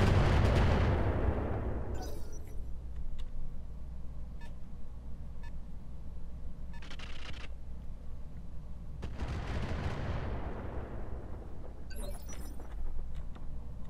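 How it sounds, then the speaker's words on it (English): Missile salvos launch at an enemy mech in the BattleTech mod Roguetech: two loud booming volleys several seconds apart, each decaying into a long rumble, with short crackling bursts of impacts and beeps between them. "And drop some missiles on this guy"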